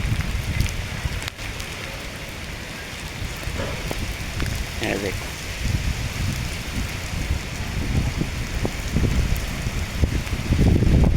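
Heavy rain in Lahore pours down in a dense, steady hiss and patter on surfaces around, continuous and fairly loud, with someone briefly speaking over it.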